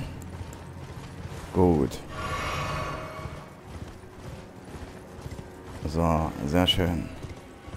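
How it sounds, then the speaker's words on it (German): A horse ridden in Elden Ring gives a rhythmic clip-clop of hooves with mechanical clanks and a short whinny-like burst, set against steady game ambience while someone speaks briefly. "Und jetzt reiten wir einfach mal weiter"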